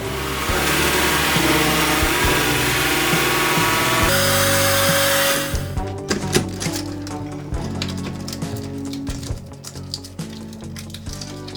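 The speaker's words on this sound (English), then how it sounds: "let's drill this hole" A loud, steady high-pitched whine of a power drill boring a hole runs for several seconds, then cuts out, followed by clattering and handling noises.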